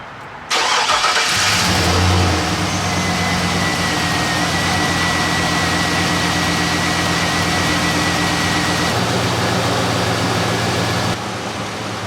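A drift tow rig's car engine cranks and catches, then settles into a steady, loud, close-up idle that runs on evenly with a constant low hum and no talking.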